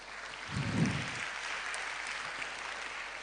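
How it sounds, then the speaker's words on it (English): A short burst of applause from a crowd, modest and fairly distant, fading into a steady murmur of room noise. "Can we give them a round of applause?"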